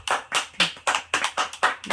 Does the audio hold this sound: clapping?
yes